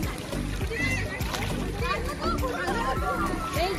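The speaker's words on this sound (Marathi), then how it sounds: "सारं पाणी उडतं बघा." Children splash water on a zoo or safari-park outing, with continuous close splashing and splatter while kids shout and talk over it.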